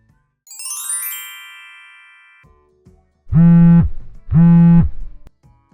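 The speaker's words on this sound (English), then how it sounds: "Would you please answer the phone?" A phone rings twice in a loud, steady two-burst pattern after a fading synthetic chime, with no one speaking.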